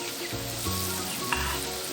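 Vinegar hits a sizzling pan of bopis at a backyard cook, sending up a loud steady frying hiss with a brief clatter partway through, close and without speech.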